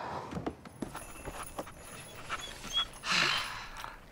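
Dog panting in quick, uneven breaths close by, with soft shuffling and a brief louder burst of breathy noise toward the end.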